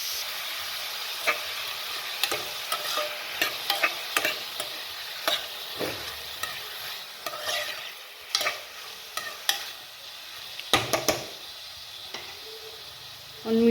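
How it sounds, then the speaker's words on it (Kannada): Chicken gravy frying in a pan as tomato and green chilli go in, with a steady sizzle under repeated sharp scrapes and clinks of a spoon stirring, fairly close and with no talking. "ಈಗ ಇದಕ್ಕೆ ಟೊಮ್ಯಾಟೊ ಮತ್ತು ಹಸಿಮೆಣಸು ಒಟ್ಟಿಗೆ ಹಾಕ್ತೀನಿ."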